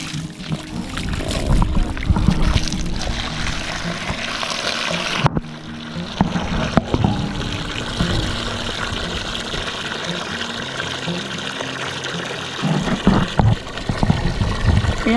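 Water runs from a garden hose on a homestead where animals drink from it, a steady rushing splash that briefly dips and then carries on at a fairly loud level.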